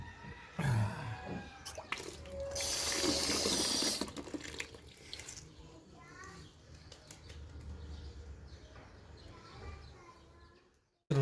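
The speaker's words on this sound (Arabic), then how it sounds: "نمعشه مليح في المي وننشفه في ايدنا بنعصره" Za'atar leaves being rinsed and squeezed in water while preparing Palestinian za'atar flatbread: close splashing and sloshing that builds into a loud, dense wash of water midway, then settles into softer trickles and drips.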